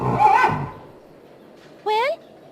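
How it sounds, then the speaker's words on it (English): A horse gives a short, loud whinny near the end, after a spoken line in a story-driven game scene. "So, Mr. Horse, do you know how I can get that boot thingy off of you?"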